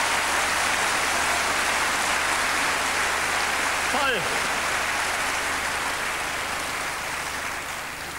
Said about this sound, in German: Ja, das ist doch schon mal ein Applaus wert.